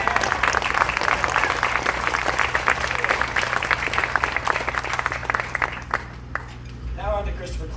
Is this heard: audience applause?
yes